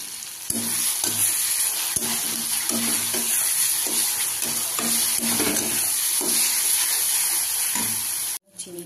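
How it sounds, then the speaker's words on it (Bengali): Ground cumin, turmeric, coriander and chilli powder sizzle in a hot frying pan, a loud steady frying hiss broken by rhythmic spatula scrapes and taps against the pan. "মশলাগুলো এবার দিয়ে দেবো।"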